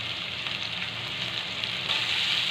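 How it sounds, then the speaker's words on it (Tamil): Sliced onions with whole cumin frying in a pan, a steady close sizzle that holds even throughout with no voices. "ஆனியன் ஃப்ரை ஆகட்டும்."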